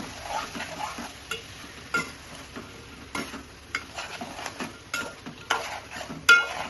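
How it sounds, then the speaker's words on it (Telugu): Eggplant pieces and salt are stirred in a pan, a spoon scraping and tapping against the metal in irregular strokes over a light, steady sizzle. "వంకాయ ముక్కలు, కొంచెం ఉప్పు బాగా కలిపేసుకొని"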